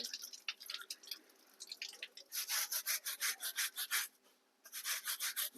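A washing machine's mesh filter being scrubbed clean by hand, heard as quick rhythmic brushing strokes in bursts with short pauses between, close and fairly crisp, with no talking.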